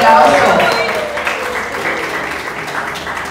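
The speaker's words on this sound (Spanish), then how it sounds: "Fuerte el aplauso." Wedding guests applaud a couple being introduced at a wedding reception, a steady wash of clapping that fades slightly over a few seconds, with an announcer's voice mixed in.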